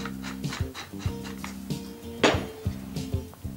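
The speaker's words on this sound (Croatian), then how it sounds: "izmiješamo pjenjačom" A whisk clatters rhythmically against a bowl, mixing balsamic vinegar, olive oil, salt and pepper in a kitchen, with repeated close metallic clinks and taps at a steady pace.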